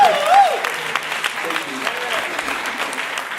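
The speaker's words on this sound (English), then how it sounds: "Can I get a hand clap for financial empowerment?" Applause from a gala audience, dense and steady for the full few seconds, with a voice briefly heard over the start of the clapping.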